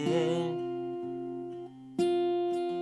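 Close, clear acoustic guitar notes are fingerpicked one at a time in a gentle, steady pattern for the verse of a song, each ringing out before the next.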